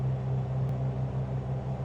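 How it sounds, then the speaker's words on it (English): Twin-engine Piper PA-44 Seminole in Flight Simulator 2020 flying on one engine, a steady low droning hum with constant tone, close and continuous. "Flying on one engine."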